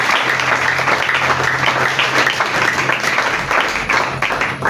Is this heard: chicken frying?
no